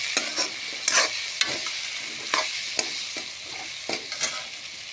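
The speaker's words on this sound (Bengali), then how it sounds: "দিয়ে দেব জিরা গুঁড়ো, তারপর দিব ধনিয়ার গুঁড়ো, দিয়ে নাড়তে থাকবো।" Turmeric, cumin and coriander powder stirred in a hot frying pan for a Bengali lentil fritter dish, with repeated scraping strokes of a spatula over a steady sizzle and no talking.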